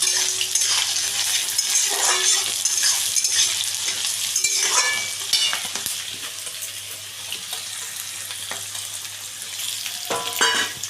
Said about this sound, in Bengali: পেঁয়াজগুলোকে আমি একটু লাল লাল করে ভেজে নিচ্ছি